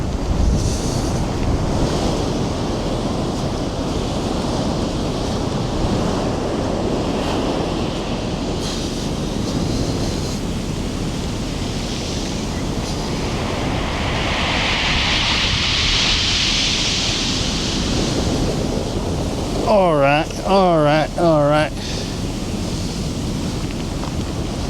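Ocean surf surging and washing over the rocky Olympic Peninsula shoreline, a continuous loud roar with a swelling rush midway, wind buffeting the microphone, and a brief spoken remark near the end.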